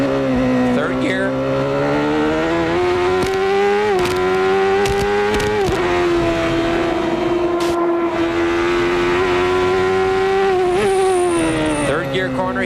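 Onboard a 1993 CART Indy car at Road America, the engine screams loud and close for the whole lap, its pitch rising and falling through gear changes and corners, with a commentator talking over it.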